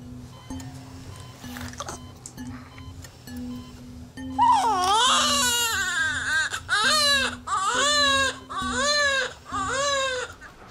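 A newborn baby cries just after birth in a delivery room, first faint whimpers over a steady low hum, then loud, rhythmic wailing bursts close by, one after another.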